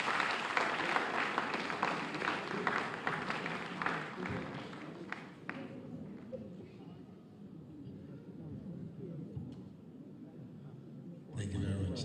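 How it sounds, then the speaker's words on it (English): Sustained applause from an audience at a Lagos State public service event, dense clapping that fades gradually over about ten seconds, with crowd murmur beneath and a brief louder burst near the end. "Please give her another round of applause"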